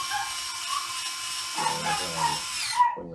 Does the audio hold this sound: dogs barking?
yes